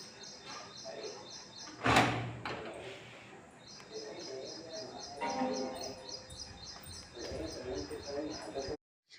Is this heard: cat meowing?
no